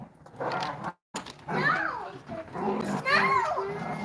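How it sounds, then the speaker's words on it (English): Dogs fight and bark outside, yelping and snarling in bursts at a moderate distance, mixed with people talking nearby. "Look at my dogs. You see them fighting outside? They're going nuts."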